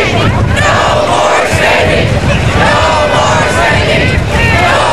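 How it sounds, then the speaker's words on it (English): A large tea party rally crowd in downtown Oceanside chants in unison against spending, a loud, rhythmic mass of voices with repeated shouted phrases rising and falling close by. "we begin with chants of no more spending"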